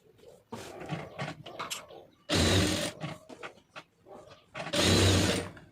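A sewing machine runs small stitches around the lining of a blouse. Two loud, sustained whirring bursts come close up, separated by handling noises and someone talking.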